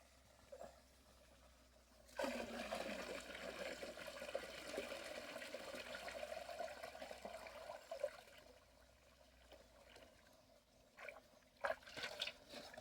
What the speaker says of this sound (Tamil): இப்போ கோமியத்தை எடுத்து ஊற்றிடலாம்